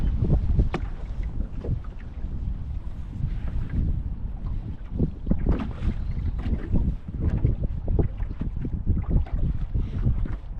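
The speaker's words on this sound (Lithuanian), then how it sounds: "O dabar va vėjas pakyla." Rising wind gusts outdoors on a fishing outing buffet the microphone close up, a rough, uneven rumble that swells and dips throughout with no one talking.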